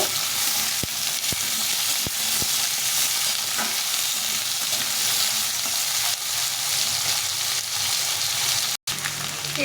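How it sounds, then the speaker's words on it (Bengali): Potato pieces fry in a pan of oil with cumin seeds and a bay leaf, giving a steady, close sizzle throughout, with a few sharp clicks from stirring and one brief dropout near the end. "আলুটা একটু ভেজে নেব"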